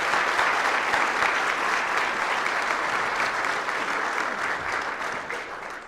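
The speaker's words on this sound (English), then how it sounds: "Let's give them one more round of applause." A city audience gives a sustained round of applause at a State of the City address, with dense, even clapping that holds steady throughout and fades only slightly at the end.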